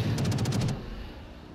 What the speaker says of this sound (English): AA fire again.